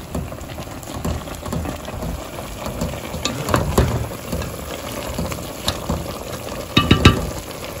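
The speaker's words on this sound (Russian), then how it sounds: "Перемешиваем." Onions fry in a pot while being stirred, giving a continuous crackling sizzle with scraping and clattering bursts from the utensil, loudest near the end.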